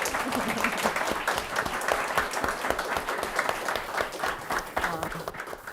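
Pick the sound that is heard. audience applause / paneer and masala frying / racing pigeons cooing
audience applause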